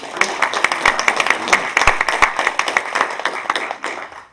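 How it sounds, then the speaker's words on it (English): An audience claps for panelists at a discussion event, a burst of brisk, fairly loud applause with distinct individual claps that swells, then thins out near the end. "If we'd give them a round of applause"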